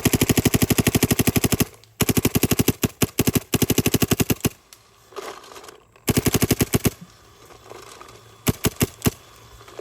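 Dye MXR paintball marker firing chilled Valken Pro paintballs in rapid bursts outdoors, loud close-range strings of fast pops broken by short pauses.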